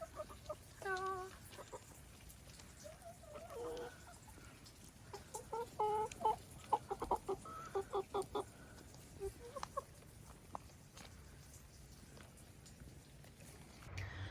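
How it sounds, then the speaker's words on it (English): Chickens cluck outdoors, scattered soft clucks and short calls coming in uneven bursts, quiet and somewhat distant against faint background noise. "Did not manage to get the chickens in."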